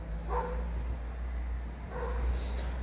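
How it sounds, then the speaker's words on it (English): A dog barks in two short bursts, moderately close, over a steady low background hum, with a quiet pause between them. "She barks at nothing."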